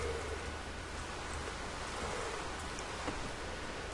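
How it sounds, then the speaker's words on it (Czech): Steady rain falling in modded Minecraft, a constant soft hiss of drops on a surface, even in loudness throughout with no voices. "ten déšť je otravnej"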